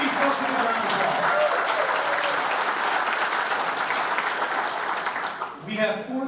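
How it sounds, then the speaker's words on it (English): Sustained audience applause fills a hall of fame ceremony honoring event sponsors, steady broadband clapping that thins near the end as a voice begins to speak. "Please give these folks a round of applause"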